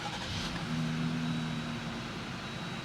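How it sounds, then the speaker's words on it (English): A Jeep engine rated at 285 horsepower revs in a steady, loud, continuous drone, with a faint whine running over the top for about three seconds. "How does each horsepower sound in each Jeep? Let's start with 285 horsepower."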